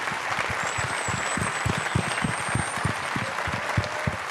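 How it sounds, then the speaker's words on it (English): An audience applauds a record-holding Magic Pro Tour champion with dense, sustained clapping that fills the room at a steady level, and a faint high whistle rises above it. "Please join me in a round of applause for the winningest Pro Tour champion of all time, the German juggernaut, Kai Buddha."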